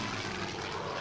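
Droning engine of a bomber aircraft in a WWII strategy video game set on the Eastern Front, a steady, continuous broadband roar holding an even level throughout, with no talk.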